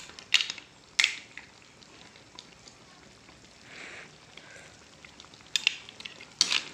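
Sautéed mussels (ginisang tahong) fry in a pan as moringa leaves go in, a soft steady sizzle broken by a few sharp utensil clinks and scrapes near the start and end.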